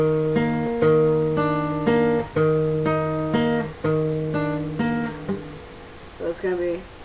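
Guitar chords strummed in a steady rhythm, several ringing strums followed by a few short picked notes near the end, close and clear.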